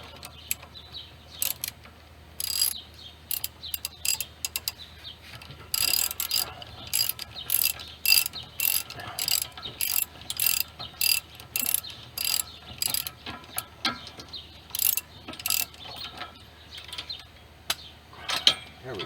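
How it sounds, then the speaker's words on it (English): Wrench ratcheting a long bolt out of a Pontiac G6 rear toe link, bursts of quick clicking pawl ticks in short runs with pauses between, close and crisp over a low hum. "Usually, you might be able to just take your wrench and thread it on out."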